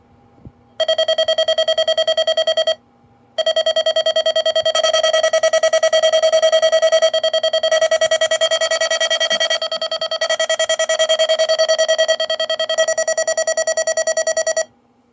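A loud, continuous electronic alarm tone from a ZoneGuard Plus wireless weather alert module sounds close up with a fast warbling pulse, breaks off briefly, then resumes and holds for about eleven seconds.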